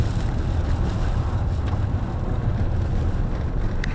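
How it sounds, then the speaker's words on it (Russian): Strong wind roars and buffets the microphone steadily, a dense low rumble with no pauses and no voices. "Реально ветер поднялся просто капец"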